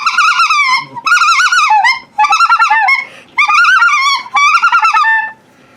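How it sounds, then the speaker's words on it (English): A specklebelly goose call is blown close and loud in five quick bursts of high, rippling honks and clucks, with brief pauses between them. "Then this is a spec call."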